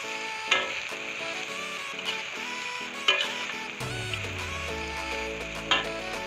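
Fried milkfish, noodles and sliced vegetables are stirred in a pan, giving a steady sizzle with periodic scraping knocks of the utensil, close and moderately loud, with no talking.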